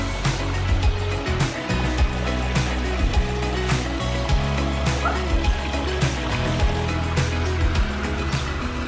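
Water from a tall backyard waterfall pours steadily into a koi pond, a continuous broadband rush with splashy surges close by, while brief dog barks and faint voices sit in the background.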